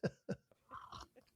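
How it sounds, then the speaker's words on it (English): A person swallows close to the microphone: a few short, quiet gulps and wet mouth sounds with small pauses between them. "I can hear that swallowing, by the way."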